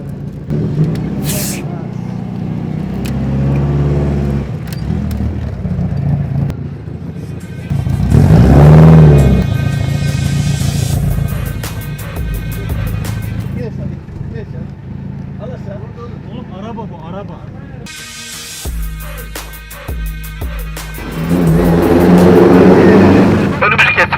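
A car engine revs and idles on a street in Istanbul's Balat neighbourhood, swelling loudly in bursts amid traffic while several people talk and shout over it.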